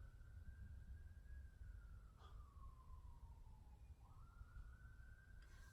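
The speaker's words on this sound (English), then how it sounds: "can y'all hear them sirens?" A siren wails in the distance outside, its long rising and falling tone sweeping slowly over steady low background rumble for several seconds, faint but clear and continuous.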